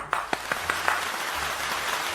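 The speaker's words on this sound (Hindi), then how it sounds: "तो मित्रों, जोरदार तालियों के साथ स्वागत करें शालिनी सरल मैडम।" An audience claps for a poet at a Hindi poetry gathering, starting with a few sharp separate claps and then settling into steady applause.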